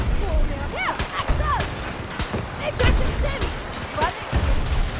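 Gunfire and explosions in Battlefield 2042 fill the battlefield as sharp shots crack repeatedly and irregularly, with deeper booms mixed in, all loud and close against a busy combat background with rising and falling tones.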